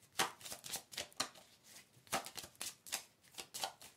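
A deck of oracle cards is shuffled by hand in quick, crisp riffling bursts, roughly a dozen soft slaps and flutters in an uneven rhythm, close and fairly quiet, with no voices.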